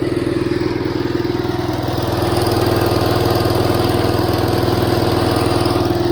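An IH Cub Cadet 149 lawn tractor engine runs nearby at a steady, loud idle, its even chugging drone holding constant with a slight lift partway through.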